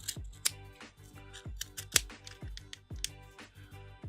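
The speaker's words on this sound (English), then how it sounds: "These are sterling scissors from Joann's" Sterling scissors from Joann's snip through yarn while pom poms are made, giving a quick series of sharp, close clicks and snips in an uneven rhythm.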